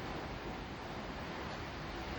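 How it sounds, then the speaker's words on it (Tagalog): Strong typhoon wind and rain roar as a dense, steady wash of noise, loud and close, buffeting the microphone without letup. "Oh, grabe ang ulan. Grabe ang hangin."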